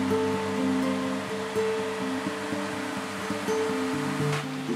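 Water pours down a waterfall into a hydro turbine at its base, making a steady, loud rushing roar with a faint low mechanical hum running underneath, with no talk.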